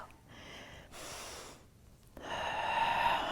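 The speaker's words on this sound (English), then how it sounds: "Inhale and exhale." Breaths drawn in and pushed out during a Pilates abdominal workout, soft airy inhales alternating with longer hissing exhales, close and fairly quiet, with no talking.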